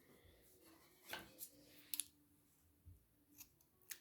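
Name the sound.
scissors cutting excess yarn while crocheting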